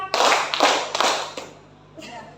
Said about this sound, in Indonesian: Mari kita tepuk tangan untuk diri kita hari ini sama-sama.